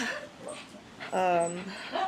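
Dogs at home give short, excited yips and whimpering barks in brief bursts, close by, with a person talking over them.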